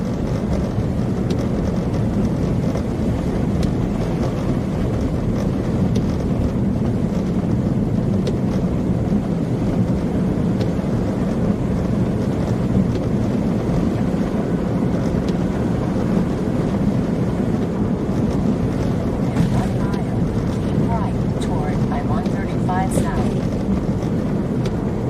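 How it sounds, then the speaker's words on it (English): Wind rises during a Kansas snowstorm as a constant, dense low roar and rush, buffeting steadily and loudly throughout. "Now the wind's starting to pick up."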